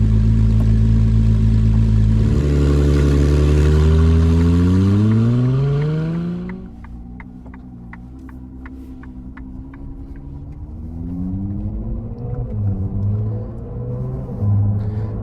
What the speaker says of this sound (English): fire up that V6 motor